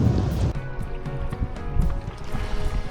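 Crosswind and large waves buffet a fishing boat out on the water during a pike-fishing trip: a steady, broadband rushing and sloshing roar with no voices.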